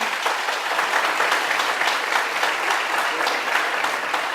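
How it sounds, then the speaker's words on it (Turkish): Sustained audience applause fills a hall during a talk on family medicine, a dense steady patter of many hands with no voices over it. "Tanıyanlar alkış yapsın."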